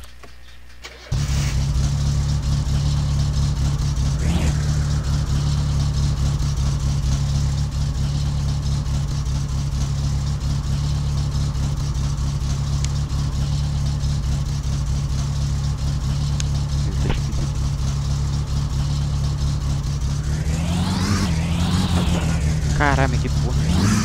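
A turbocharged Satsuma in My Summer Car starts up and drives, its engine holding a steady mid-pitched drone close by, with a couple of brief revs and a rising rev near the end.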